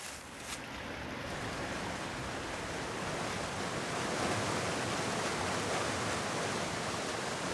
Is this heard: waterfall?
yes